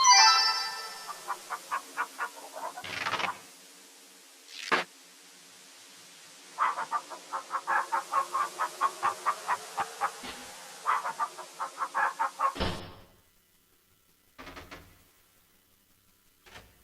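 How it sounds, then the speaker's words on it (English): A chicken in the King's Quest III computer game gives rapid bursts of synthesized clucks in repeating runs, separated by short electronic blips and pauses, ending in quiet. "You gently pluck a feather from the chicken and gently set it back on the ground."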